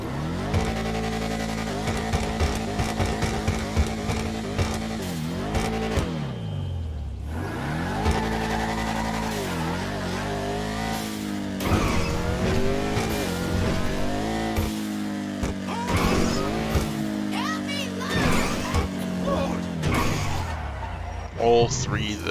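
An American sports car engine in GTA 5 roars and revs repeatedly, pitch sweeping up and down through gear changes, with brief tire squeals; a voice talks over it.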